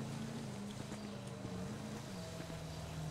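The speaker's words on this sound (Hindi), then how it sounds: "चल स्टार्ट कर अपनी मोटरसाइकिल।" A motorcycle engine idles steadily in GTA 5, a low continuous hum with harmonic drone running throughout under faint wind noise, no clear start-up burst.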